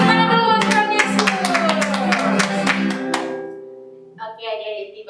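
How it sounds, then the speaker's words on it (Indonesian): Children clap along at a Sunday school service at GKI Syaloom Amungsa, with about a dozen sharp, rhythmic claps over sustained musical tones before the clapping stops and a voice follows. "Tepuk tangan dulu buat Yesus."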